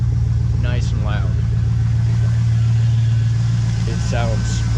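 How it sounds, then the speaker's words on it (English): A pickup truck engine idles steadily while warming up, a loud, constant low rumble running through the whole stretch, with brief bits of talk or vocal sounds on top. "Now, just gotta wait for my truck to warm up and I'll be moving."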